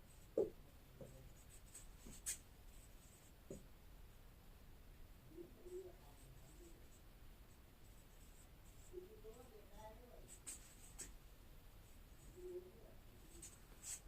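Handwriting during a physics lesson, soft sparse scratches and taps of pen on paper, faint and close, under a teacher speaking intermittently.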